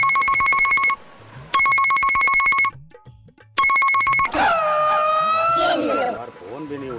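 A phone rings repeatedly in electronic bursts with short pauses, then a voice speaks loudly over the end. Nobody picks up during the ringing.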